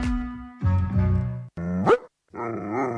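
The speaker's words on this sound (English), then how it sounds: "Hey, this dog won't stop barking at us." Dog barking and growling in a radio advert, several loud, rough barks and snarls in separate bursts with short gaps between them, close and prominent.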